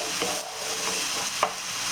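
Chicken and vegetables cook in olive oil over medium heat, giving a steady soft sizzle with a few light stirring scrapes and clicks along the way. No one speaks.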